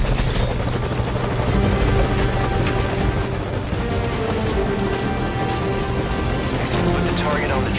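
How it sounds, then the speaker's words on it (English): A helicopter in the Metal Gear Solid V: Ground Zeroes game holds a loud, continuous rotor thrum with a steady whine above it, close and unbroken throughout. "No one's gonna see that helicopter, luckily, or hear it."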